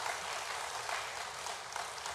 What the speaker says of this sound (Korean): 네, 우리 박수하겠습니다.